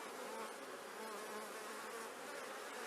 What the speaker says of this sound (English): A lot of bees with pollen on their backs, on their legs.